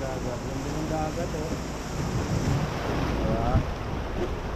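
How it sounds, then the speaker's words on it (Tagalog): Sea waves wash onto a beach at Ras Al Khaimah, a soft continuous surf roar mixed with wind noise on the microphone, while voices and a brief cheer sound faintly over it. "Ano yung dagat? Ganda ng dagat"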